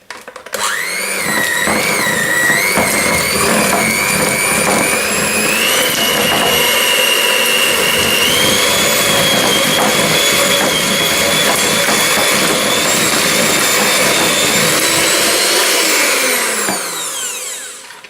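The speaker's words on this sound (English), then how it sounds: "I cut up the butter, softened butter, into the bowl first, and I just loosen it up using the whisk" Electric whisk beating softened butter in a bowl, a loud steady high-pitched motor whine with shifting pitch and beaters rattling against the bowl, starting and stopping cleanly with no talk.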